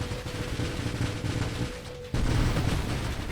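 Bombs going off in the space shooter Nova Drift, a dense, rapid cluster of booming blasts that drops out briefly and then surges back just as loud.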